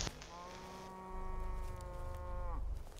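A single sustained moo from a cow in a video game holds a steady pitch for over two seconds before sagging at the close, clear and loud above a faint droning hum.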